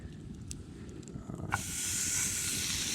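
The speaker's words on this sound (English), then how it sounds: "I think for the steak, we're just gonna go ahead and grill this bad boy" A steak hits a hot grill at an outdoor campsite and starts sizzling loudly, a sudden steady hiss following a few faint knocks and quiet outdoor ambience.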